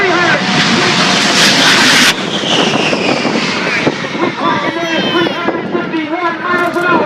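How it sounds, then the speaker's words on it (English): A Shockwave jet truck roars as it accelerates at high speed at the Wings over Northern Michigan air show, a loud continuous jet blast with a fiery burst at the start, then a steady rushing drone as a voice talks over it. "351 miles an hour into the wind with the incredible Shockwave jet truck"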